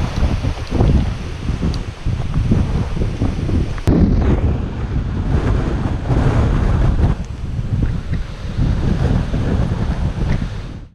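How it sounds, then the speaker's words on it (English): Strong gusting wind buffets the microphone during outdoor landscape photography in heavy rumbling blasts, loud and continuous, with a sharp knock partway through. "it's just getting crazy with this wind"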